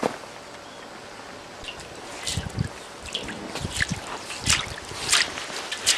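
Wool being washed by hand in water, with soft sloshing and trickling splashes coming in irregular bursts, close by and moderately quiet, no talking.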